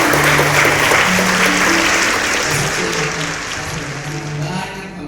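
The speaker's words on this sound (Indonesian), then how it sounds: "Luar biasa, tepuk tangan dulu ya." A church congregation applauding at a Sunday service in Balikpapan; loud, dense clapping with some voices mixed in, gradually fading toward the end.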